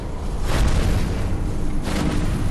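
A tower blowing apart in the VR game Megalith, a loud continuous roaring rumble with two bursts of crackling debris close in, sustained throughout with no voices.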